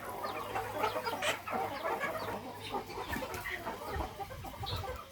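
Several fighting-breed chickens on a farm cluck and squawk close by in a busy, continuous chorus of short calls.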